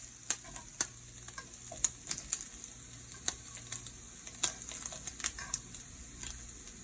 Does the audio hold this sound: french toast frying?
yes